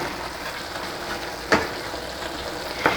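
Ridge gourd with small shrimp frying in a pan over high heat, a steady hissing sizzle with two sharp scrape-like clatters of stirring, no voices.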